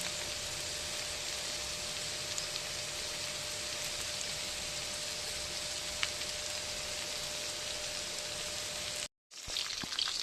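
Dried and green chillies tempering in hot oil before red amaranth goes in, a steady dense sizzle with fine crackle holding even throughout, briefly cut off near the end, with no talking.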